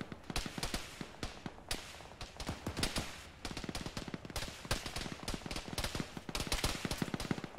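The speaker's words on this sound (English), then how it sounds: "I don't know what's shooting at me" Gunfire crackles in the ArmA military video game: rapid bursts and scattered single shots, mostly distant to mid-range, firing almost without pause.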